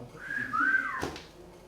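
A single audience member at a comedy club lets out a rising-and-falling whistle, clear and moderately near, lasting about a second against quiet room noise.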